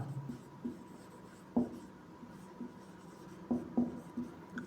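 Chalk or marker scratches across a classroom board in short strokes with sharp taps between them, a quiet irregular rhythm with no talking.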